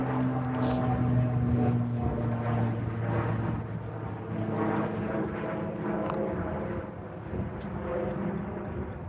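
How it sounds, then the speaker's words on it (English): A plane passes overhead outdoors, a steady broad engine roar with a low droning hum that swells slightly and holds loud throughout, with no talk. "let me let this plane go by"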